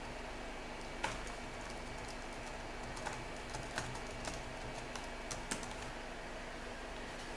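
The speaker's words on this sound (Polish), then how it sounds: "najeżdżamy sobie na nasze pole, wpisywania hasła i wpisujemy hasło" Password being typed on a computer keyboard during an Arch Linux setup, sparse soft key clicks spread over several seconds against a steady room hum, fairly quiet and close.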